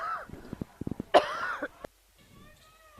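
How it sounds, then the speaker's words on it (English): A volleyball commentator coughs and clears his throat in a gym, with a short burst of sharp coughs followed by a louder throaty hack, close to the microphone, with a brief murmur of speech. "My apologies, I will sometimes cough."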